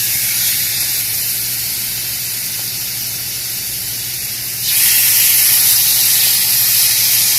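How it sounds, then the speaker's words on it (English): Loud, steady sizzling and hissing of blackened chicken frying in a hot pan, growing brighter and more intense partway through, with no talking. "Listen to it sizzle."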